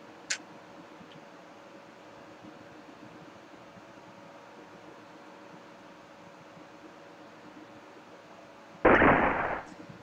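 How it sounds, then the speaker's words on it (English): A single sharp gunshot from the game Live A Live rings out near the end, loud and abrupt against a quiet backdrop with a faint hum and a small tick at the start. "And that was a gunshot."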